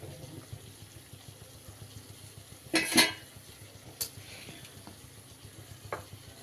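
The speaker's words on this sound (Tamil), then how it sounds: "இப்போ கொஞ்சம் கொஞ்சமாக சர்க்கரையை போட்டு கலக்கிட்டே வரணும்." Sugar is stirred bit by bit into wheat halwa in a pan, a low continuous scraping and soft sizzle with a sharper clatter of the spoon midway and a few light clinks, close and quiet.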